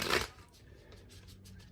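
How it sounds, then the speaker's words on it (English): A quick burst of tarot cards being shuffled, a short riffling flutter at the start, then quiet room tone. "I will go ahead and begin shuffling."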